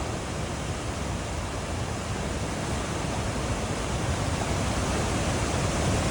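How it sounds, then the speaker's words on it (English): Water rushes loudly and steadily along the Appalachian Trail, a close, continuous broadband roar like a waterfall or fast stream with no pauses or talk. "A lot of water, y'all."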